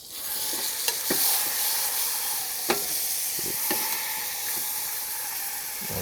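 A roast searing in a hot pan, giving a continuous close sizzle and hiss with occasional clicks and light clinks of handling.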